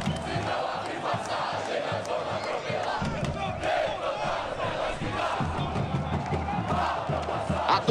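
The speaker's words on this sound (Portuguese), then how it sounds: "A torcida solta o grito do fundo da alma, do fundo do peito." A stadium crowd's battle cry in the EA FC football video game during a Brazilian Série B match, Operário-PR versus Botafogo-SP, a dense continuous roar of chanting voices held steady throughout.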